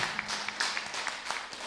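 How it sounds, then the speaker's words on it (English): Audience applause at a science and technology workshop, a short burst of many hands clapping steadily at moderate loudness, heard from within the room. "I welcome you to applaud more for that research."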